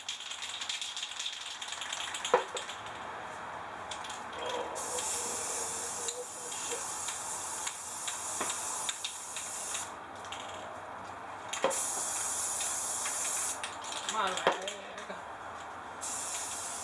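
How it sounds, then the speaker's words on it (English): Spray paint can hissing in long bursts into water during a Chrysler 300 2.7L V6 overhaul, several steady sprays with short pauses between, close and fairly loud. "we're gonna reactivate the paint in the water by spraying it with paint"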